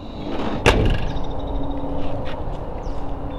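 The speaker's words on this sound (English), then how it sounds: "doors shut nice" A single solid thunk of a door shutting on a restored 1957 Chevrolet 3100 Big Window half-ton pickup, a short sharp close slam followed by a quieter outdoor background.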